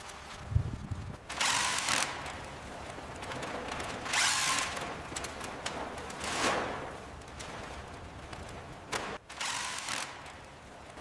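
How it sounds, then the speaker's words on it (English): A power tool tightens bolts in an abandoned factory under renovation, giving several short whirring bursts of a few seconds each, separated by pauses, fairly quiet against a low background hum. "Keep tightening those bolts."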